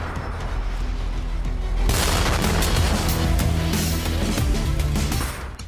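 A loud rumbling blast from a Russian artillery strike near Kharkiv erupts and rolls on, heavy booming and crackling debris filling the air before slowly fading out.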